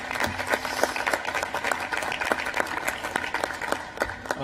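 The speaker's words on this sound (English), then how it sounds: "Another round of applause for the Secretary of Energy." An audience at the National Space Council meeting applauds for the Secretary of Energy, giving a brief patter of scattered clapping at moderate distance.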